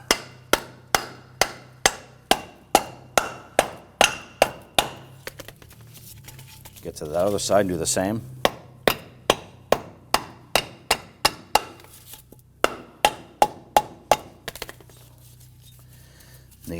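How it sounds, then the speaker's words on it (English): A hammer taps the tab on a 2008-2011 Ford Focus front engine mount bushing in rapid, evenly spaced metallic strikes, pausing briefly and then resuming, close and sharp, with someone speaking during the break. "Take your hammer, go ahead and start to roll that."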